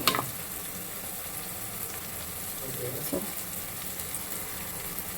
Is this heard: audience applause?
no